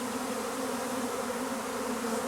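A swarm of honeybees clusters under a fir branch, filling the air with a dense, steady, close droning hum that never lets up.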